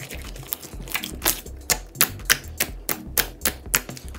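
Slime being squeezed and played with by hand, making a quick run of sharp crisp clicks and pops in an irregular rhythm, close and loud, no voices.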